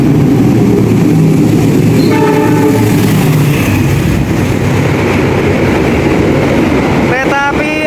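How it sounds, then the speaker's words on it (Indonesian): The Argo Bromo Anggrek express train overtakes at high speed at night, a loud close roar of wheels and rushing carriages with horn blasts, heard from aboard another train. "disalip langsung dengan kecepatan tinggi kereta api Argo Bromo Anggrek keberangkatan malam hari"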